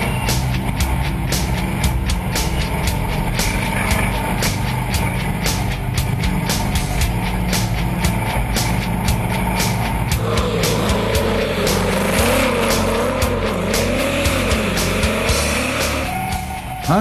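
A vintage Mercedes-Benz racing car, driven by former Formula One and Mille Miglia driver Hans Herrmann, roars steadily through a lap. The engine note stays loud and continuous, rising and falling in pitch as it accelerates near the end.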